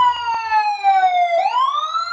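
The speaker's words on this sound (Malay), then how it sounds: "terdapat siren polis yang kedengaran menuju ke arah ini" A police car siren wails loudly and nearby, one long falling tone that turns and climbs again as the vehicle heads this way, with no voices over it.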